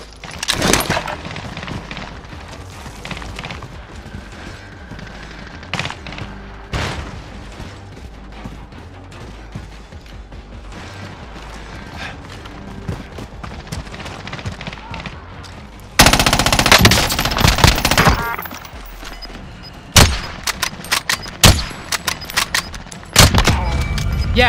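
Video game firefight with bursts of machine gun fire and rifle shots, sustained rattling volleys that grow louder and denser in the second half, with brief louder bursts near the end.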